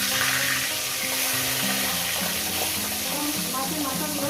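Catla fish heads frying together in hot oil in a wok, giving a loud, continuous, close crackling sizzle with a faint tonal layer underneath.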